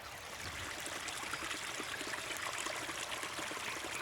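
Spring water trickles and burbles steadily from rocks at a desert oasis in southern Baja California, a continuous soft flowing hiss without breaks and no talk.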